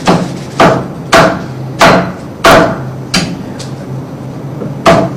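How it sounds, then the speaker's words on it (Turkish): A knife chops sharply on a board, cutting Denizli kebab into diamond-shaped slices, seven firm close strikes at an uneven pace with short pauses between them. "Bunda baklava dilimi doğrayacak."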